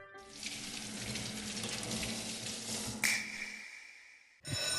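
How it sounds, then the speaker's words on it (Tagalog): Tap water running into a sink during hand washing: a steady, close rushing stream that cuts off near the end, followed by a brief different noise. "Habang naguhugas ako ng kamay sa lababo"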